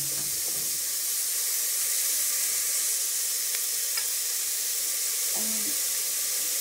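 Vegetables for a shell and potato soup sweat in a pot with a steady bright sizzle and hiss, broken by a few soft scrapes of stirring, with no one talking.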